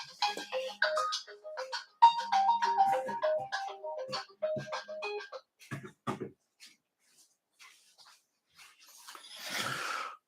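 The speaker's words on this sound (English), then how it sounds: "my phone is ringing" A phone ringtone plays a bright, chiming melody for about five seconds, then gives way to scattered soft clicks and a short rustling burst.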